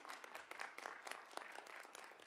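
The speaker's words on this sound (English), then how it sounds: "we can have a round of applause for Ms. Laughlin" A room at a school board of education meeting breaks into steady applause, many hands clapping in a dense, continuous patter that sounds faint and somewhat distant.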